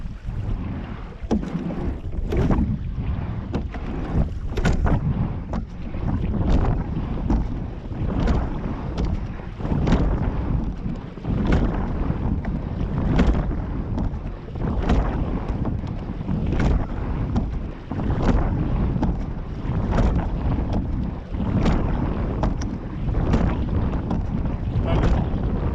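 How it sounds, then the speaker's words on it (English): Wind gusts over open water while a rowing pair paddles, a steady loud rush with rhythmic rumbling pulses from the strokes and microphone buffeting throughout, no talk. "The wind has started to pick up already."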